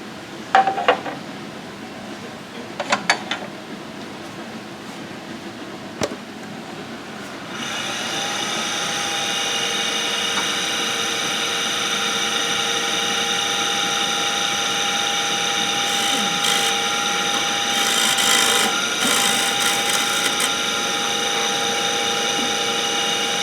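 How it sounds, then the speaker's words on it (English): Bowl gouge taking a shear scraping cut on wood turning on a lathe: a few sharp clicks, then a sustained high whining, scraping tone that holds steady for most of the stretch, loud and close. "So a shear scraping cut is done in a similar flute rotation."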